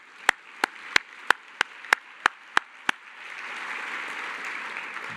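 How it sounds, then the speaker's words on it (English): At a Women Helping Women gathering, about nine sharp, evenly spaced claps ring out alone before a softer, wider wash of audience clapping swells in and carries on. "Yeah, you should clap for that"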